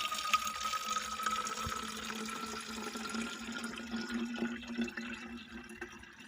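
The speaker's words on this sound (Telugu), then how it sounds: "ఇప్పుడు నీళ్ళు దీనికి పోస్తున్నా" Water poured into a container for a homemade plant spray, a steady close trickling and splashing that runs for several seconds with no talking.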